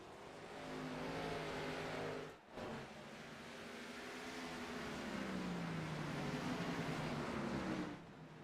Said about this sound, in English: God, I love the sound of that car.